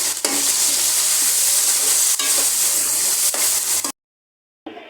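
Spices frying and being stirred in a pan for plain pulao, a steady loud sizzle with scraping stirs, briefly cut to silence near the end before the sizzle returns.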